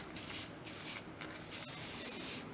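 Spray paint hisses from an aerosol can onto a rock-faced edge sink being built, in several close, steady bursts with brief pauses between them.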